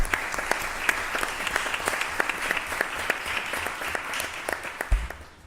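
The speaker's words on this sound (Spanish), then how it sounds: "Pues pueden aplaudir." Audience applause after a medical talk on liquid biopsy, a dense crowd of clapping hands held steady throughout, fairly close and loud, fading slightly at the end.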